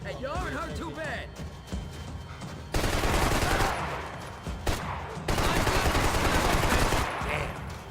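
Video game gunfire in Max Payne 3 over Hoboken, with dense bursts of automatic shots and heavy rattling volleys filling the scene, layered under music and spoken game dialogue.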